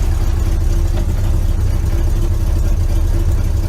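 A 1953 1.5-ton hay truck idles loud and close with a steady low rumbling engine throb throughout, no talking over it.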